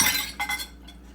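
A spoon clinks twice against a glass or metal bowl while an ingredient is stirred into a thick berry poffin mixture; short, close, light taps with no talking.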